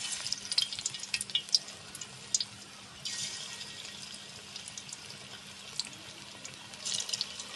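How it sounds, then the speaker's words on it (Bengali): Vegetable fritters (peyaju) frying in hot oil in a wok, a faint crackling sizzle with scattered pops and occasional stirring scrapes, heard close up without any talking. "তেল গরম হয়ে গেছে, এখন বড়াগুলো ভেজে নেব।"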